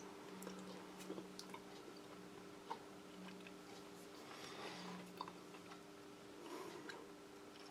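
Quiet close chewing of a soft, very sweet British Army emergency ration sweet, with faint wet mouth clicks and small ticks over a low steady background hum.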